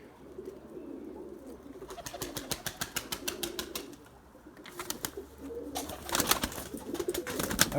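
Domestic breeding pigeons coo at their nest boxes in a loft, a soft low rolling coo running underneath. Bursts of rapid wing flapping and rustling break in twice, louder toward the end, close by.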